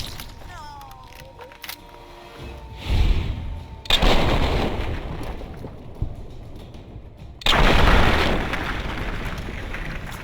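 Shotgun blasts from a double-barrel shotgun in Fallout 3 at Point Lookout, three heavy booming reports with long rumbling tails, the first partly masked, over game ambience.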